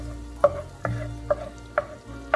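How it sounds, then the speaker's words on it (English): Chopped garlic sautés in olive oil in a pan, a soft steady sizzle broken by five sharp scraping stir strokes at a roughly even pace, close and clear with no talk. "Adding in the chopped garlic. We will sauté it."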